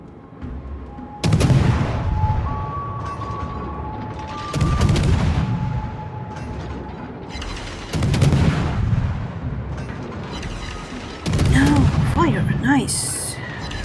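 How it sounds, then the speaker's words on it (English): Warship guns fire in the World of Warships naval battle game, four loud, booming salvos spaced a few seconds apart, each rolling off over a steady background rumble. "Maybe I better start shooting."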